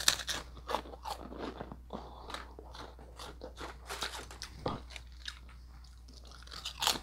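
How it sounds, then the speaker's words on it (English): Crunchy potato chips are chewed close to the microphone in a run of sharp, loud crunches and bites, with short pauses between mouthfuls and no talking. "It's like really hard to chew a lot of chips,"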